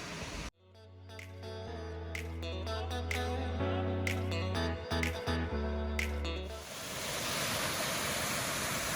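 A waterfall in a stream produces a continuous broadband rush that comes in over the last few seconds, after a stretch of steady tonal, droning sounds.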